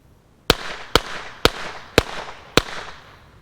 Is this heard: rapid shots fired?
yes